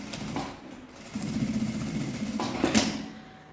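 A sewing machine stitches a seam on a fabric shoulder bag, a steady buzzing run that dips briefly and resumes, fairly quiet and close, with no talk.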